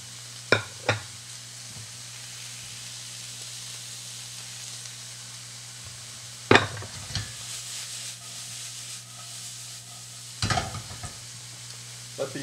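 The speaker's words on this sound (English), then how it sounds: "you've got bacon and onions in the pan" Bacon and onions sizzle steadily in a pan, a soft continuous hiss broken by several sharp utensil clicks and scrapes from stirring, with a low hum in the background.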